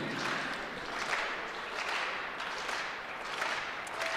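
Crowd clapping at a U Sports track and field championship, backing a high jumper before his attempt at a height; steady broadband applause from the stands, fairly even throughout with no speech.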